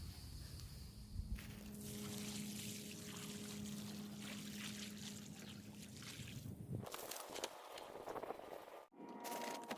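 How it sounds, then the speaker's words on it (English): Water pours and trickles steadily onto the soil around newly planted mango and elderberry trees in a food forest garden, a soft continuous flow that shifts in tone and ends with a few sharper splashes and knocks. "We're going to water it"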